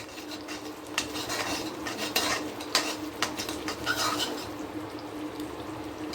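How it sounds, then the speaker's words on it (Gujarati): A metal spoon stirs turmeric, coriander-cumin powder and garam masala together in a cooking pan, giving repeated scraping clinks and soft shuffling at a moderate distance, with a faint sizzle underneath and no talk. "બધું સારી રીતે મિક્સ કરી લઈશું।"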